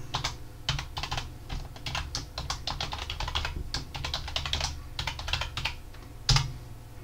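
Rapid keystrokes on a computer keyboard entering a password, a steady run of close, crisp clicks with a couple of short pauses and one louder tap near the end, no talk.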